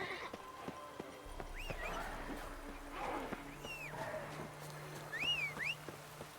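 Horse hooves in The Witcher video game, with soft rhythmic clip-clop footfalls under game ambience, faint whistling bird-like calls and a low hum, fairly quiet throughout.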